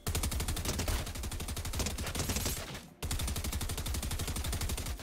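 Rapid, sustained SMG fire in a Fortnite aim-training course, loud and close, with dense repeating shots that break off briefly near the three-second mark before resuming just as fast.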